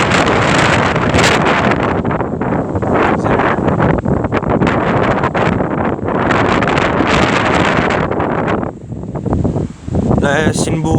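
A violent storm gust of about 100 km/h in the Rhône batters the microphone with loud, continuous roaring and buffeting that briefly eases near the end before surging again.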